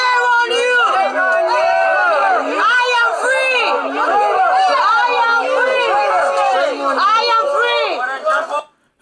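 A crowd at a street protest shouts over someone speaking, with many overlapping loud, excited voices forming a dense, continuous clamor that cuts off abruptly at the end.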